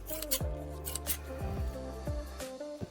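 Large shop scissors snip through fiberglass cloth during a radio-control boat hull repair, giving several close, crisp cutting strokes at an uneven pace with faint rustling of the material between cuts.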